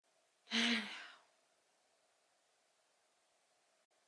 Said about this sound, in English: we are going to take a couple of deep breaths. So, breathe in.